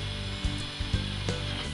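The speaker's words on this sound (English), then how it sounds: "With a 3-inch hole saw, I drilled the first basket hole." A 3-inch hole saw on a drill cuts a basket hole, giving a steady grinding whir with a few brief louder catches as the teeth bite, continuous and close with no talking.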